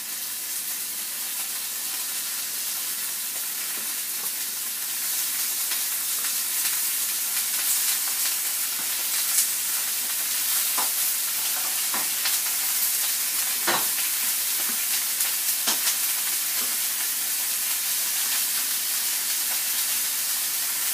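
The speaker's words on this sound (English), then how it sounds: "I'm just going to start browning this" Beef browning in a pan for a beef, mashed potato and cabbage meal gives a steady close sizzle and hiss, with occasional sharper spatters and stirring scrapes throughout and no talking.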